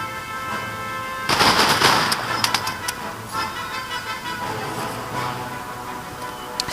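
Musket volleys from Grenzer and cadet rifle units in an Empire Total War battle: a dense burst of rifle fire around the second mark, followed by scattered sharp shots over a steady battlefield din.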